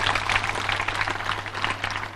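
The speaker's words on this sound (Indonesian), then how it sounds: "Tepuk tangan dong." A seated audience at a peace-message talk in Bali breaks into a steady round of applause, a dense, even patter of many hands clapping throughout, fairly loud with no speech over it.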